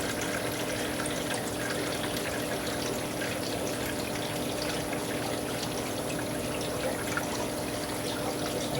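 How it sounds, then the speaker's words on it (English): Water is poured out of a plastic shipping bag holding newly arrived tropical fish, a continuous close splashing trickle that runs steadily at an even level for the whole stretch, with no talking. "There's the majority of their water poured out."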